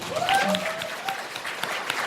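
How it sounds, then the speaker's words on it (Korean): An audience at a company presentation claps, the sound fairly near and lively, with a voice briefly audible over the start of the clapping. "자신에 대해서 박수 한번 쳐드릴게요"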